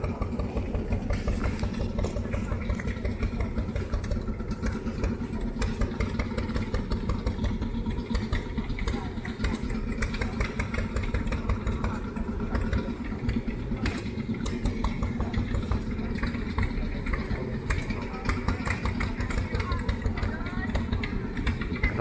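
A vintage tractor engine idles at a traditional machinery show in Finland, a steady rapid low chugging that runs continuously and fairly close, with people talking nearby.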